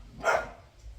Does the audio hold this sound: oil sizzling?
no